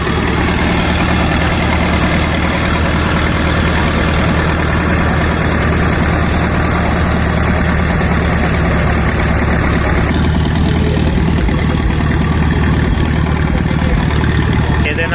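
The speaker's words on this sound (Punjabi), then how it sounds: "ਪੱਥਰ ਤੋੜਿਆ ਜਾਂਦਾ ਇੰਜਨ ਲੱਗਾ ਹੋਇਆ ਇੱਧਰਲੇ ਪਾਸੇ ਦੂਸਰੇ ਪਾਸੇ ਸਟੋਨ ਬ੍ਰੋਕ ਮਸ਼ੀਨ ਲੱਗੀ ਹੋਈ ਆ" An old, huge stationary engine with water cooling runs a stone crusher machine, giving a loud, continuous low throbbing drone that stays steady throughout, with a voice talking faintly beneath it.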